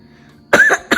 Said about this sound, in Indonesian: silakan melakukan penekanan untuk batuk lagi